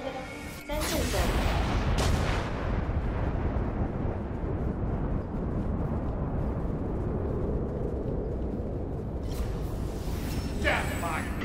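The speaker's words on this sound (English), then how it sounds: "Nuclear missile has landed on center zone." A nuclear missile blast in the video game Darwin Project lands as a sudden loud boom, then a long, heavy rumbling roar that stays dense and sustained for many seconds, with a voice announcing over it.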